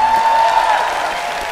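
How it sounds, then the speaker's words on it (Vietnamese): Studio audience applause at a Vietnamese television music show, a dense, steady wash of clapping from a crowd, loud and sustained, with a faint held tone underneath and no speech. "Xin cho một tràng vỗ tay."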